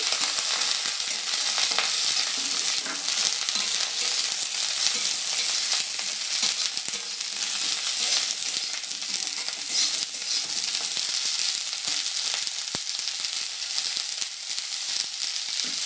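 Carrots and cauliflower fry over medium heat in a pan, giving a steady, bright sizzle that runs unbroken from start to finish with no voices.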